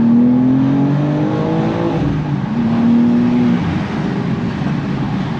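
A 2023 BMW M2 engine revs hard and pulls under load in second gear, its pitch climbing, dipping briefly, then rising again, loud and close throughout.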